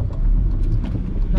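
A motorbike engine rumbles steadily at close range, a low mid-pitched drone that swells slightly as it makes a U-turn and comes back around.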